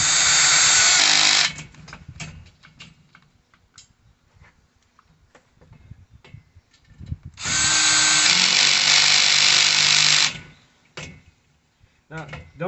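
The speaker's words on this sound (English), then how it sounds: "Just use a regular driver." Power screwdriver driving screws into a metal patio dining set during assembly: two loud, sustained whirring bursts several seconds apart, with clicks and handling knocks in between.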